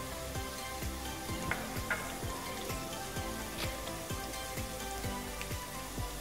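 Garlic paste sizzles steadily in hot oil with softened onions in a pan, a constant close frying hiss dotted with small pops and crackles, no voices.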